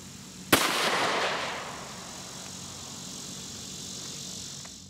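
A single sharp 9mm Federal HST gunshot fired into a ballistic gel block, loud and close, with a decaying echo that trails off over a couple of seconds.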